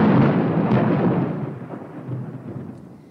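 Thunder from a lightning storm booms loudly and rolls on as a deep broadband rumble, slowly fading over about three seconds.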